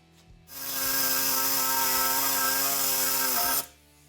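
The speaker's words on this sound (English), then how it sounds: "we're going to cut through this flange. And I can feel a difference once I get through this a little bit. There's just a different feel in the saw." Powered saw cutting through the flange of a control arm bushing on an M151A2 military jeep, a loud steady whine of about three seconds with a rising tonal buzz, starting and stopping abruptly, close by.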